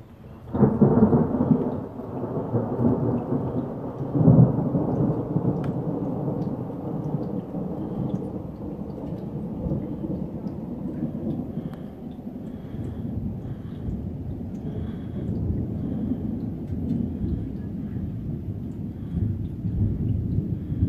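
Heavy rolling thunder from a severe thunderstorm in South East Queensland, with a loud crack near the start and a second clap soon after, then a continuous rumbling wash of steady rain for the rest.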